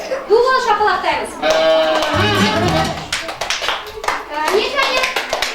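Kindergarten children clap their hands in a lively burst of applause at a preschool performance, with a child's and an adult's voices carrying over the clapping.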